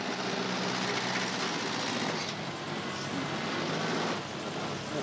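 Tractor engine from the farming game Farming Simulator 19, a steady broadband drone that holds level and close throughout with no speech over it.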